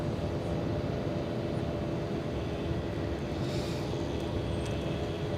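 A Delta Airlines airplane at LAX gives a continuous low rumble of engine noise, fairly distant and even in level, with no speech over it.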